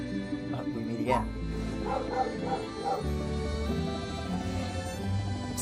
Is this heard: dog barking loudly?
yes